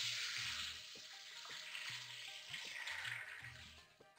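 Chickpeas and cumin frying in oil with browned onions in a pressure cooker, a soft continuous sizzle with a few faint stirring knocks, no voices.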